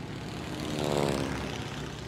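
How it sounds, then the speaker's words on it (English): A propeller plane flies in a Dora the Explorer video game, its engine droning steadily with a rhythmic buzz that swells slightly in the middle as it passes, with no talking. "Will you help Tico steer his plane so we can parachute down to Star Mountain"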